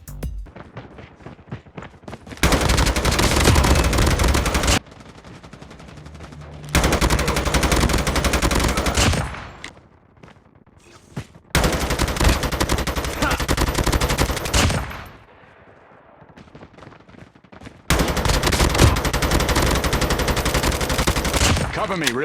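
Gunfire in the COD Mobile video game played on a Vivo X90 phone, loud sustained bursts of automatic weapon fire in several long volleys separated by quieter stretches of game sound.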